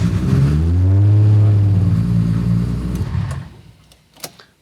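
A car engine cranks and runs with a low, smooth hum that rises in pitch, then fades away, followed by a few faint clicks.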